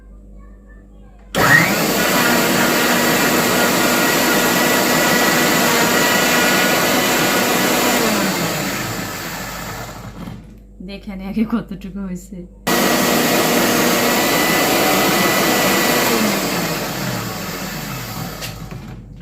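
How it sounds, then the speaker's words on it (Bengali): A kitchen blender grinds coconut in two loud, steady bursts, the motor whining continuously for several seconds, stopping briefly while someone speaks, then running again and tapering off. "সেই নারিকেলটা একটু ব্লেন্ডার করে দিই"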